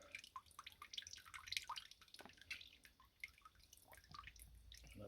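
Soft, irregular drips of water falling from saturated tie-dye fabric, close and quiet, with scattered small splashes and patters.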